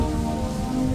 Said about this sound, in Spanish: ¡Mira lo que es esa lluvia,